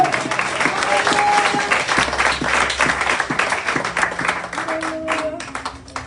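A church congregation applauding, dense rhythmic clapping from many hands close by, with voices and singing mixed underneath.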